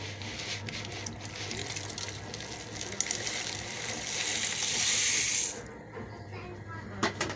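Dry pasta tipped into a pot of boiling salted water with a little oil while making Egyptian koshari, giving a steady loud wash of water and bubbling that swells, then stops abruptly near the end.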